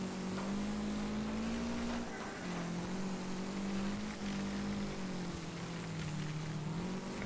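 Race car engine in the Wreckfest racing game droning steadily throughout, its pitch sagging and rising with gear and throttle changes, loud and continuous.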